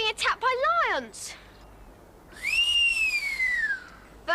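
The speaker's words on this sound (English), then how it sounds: "give the danger whistle" A person whistles a signal: quick warbling rising-falling notes, then a long sliding whistle held for over a second, loud and close.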